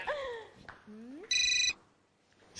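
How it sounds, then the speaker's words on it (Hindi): A telephone ring in a Hindi comedy series scene: one short, steady electronic ringtone burst, fairly loud and close, following a brief stretch of background dialogue and set-room sounds. "ये रंबा बार बार फोन क्यों कर रही है"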